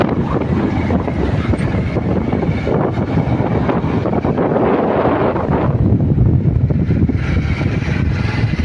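Strong hot wind buffets loudly and continuously near a riverside cremation ground, a rough roaring rumble with gusty surges throughout.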